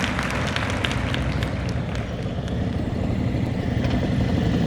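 A motorcycle moves at low speed through slow-speed practice, with a continuous rough engine rumble and road noise, close and fairly even throughout.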